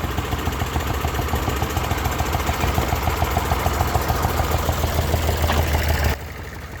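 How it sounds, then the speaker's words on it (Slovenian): A 1962 IMT 533 tractor engine running steadily with a loud, close, rhythmic diesel knock and chug, cutting off abruptly near the end. "je lastnik traktorja ITM, letnik 1962, s prav posebno zgodbo."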